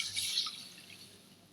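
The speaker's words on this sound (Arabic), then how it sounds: "راح اضيف عليه المي" Water is poured into a pot of sautéed ingredients, giving a brief hissing splash that fades quickly to a faint trickle.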